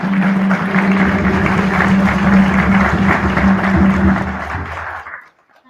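Audience at a commemoration event clapping after a song, steady applause with a low droning tone beneath, cutting off abruptly near the end.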